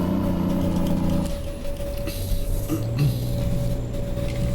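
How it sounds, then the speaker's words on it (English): A truck engine in Euro Truck Simulator 2 with open pipes idles with a steady low rumble and a constant hum, droning continuously without pauses. "this truck just sounds so mean when it's open pipes"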